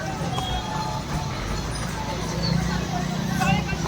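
Horses' hooves clip-clop steadily beneath lively crowd chatter and nearby talking at a Hola Mohalla procession and fair in Kurukshetra, a busy outdoor setting.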